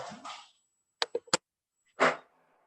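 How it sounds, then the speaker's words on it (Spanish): A female dog plays indoors and lets out a few quick, sharp barks and yips, followed by one louder bark, with short silent gaps between the bursts. "La perra está jugando atrás mío y no me da bola, como si no estaríamos haciendo nada, haciendo un ruido increíble"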